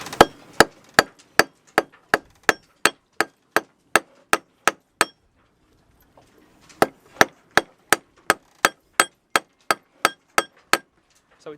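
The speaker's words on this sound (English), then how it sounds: "if we were to get a hammer now and try hammering this into a washer shape" Hammer strikes on an untreated copper pipe being flattened into a washer shape, landing as two runs of sharp, evenly spaced metallic blows with a brief pause between them, close and loud.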